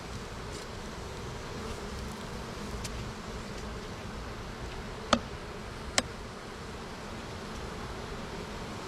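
Honey bees buzz around backyard hives in a steady, low, faint drone, broken by two brief sharp clicks near the end.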